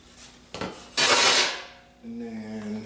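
A metal egg pan from a Power XL air fryer grill is handled, giving a couple of sharp clanks and a scraping rattle followed by a brief ringing metallic tone.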